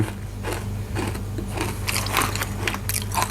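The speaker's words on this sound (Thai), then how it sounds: "เอาเห็ดหอมก่อนพี่น้อง เบิ่งว่ามันจะกรอบหรือแข็งนะครับ" Crunchy bites into a crispy baked shiitake mushroom, close to the mic, with repeated crackling crunches and chewing over a low background hum.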